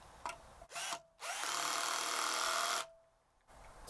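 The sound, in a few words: Niteo 12V cordless drill driving a screw, clutch at 17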